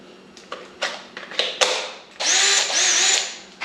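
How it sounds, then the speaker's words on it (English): A 1/2 inch drill bores out holes in steel frame stock, with a few short tentative bursts, then a sustained loud whining cut of about a second and a half that trails off. "1/2 inch drill here."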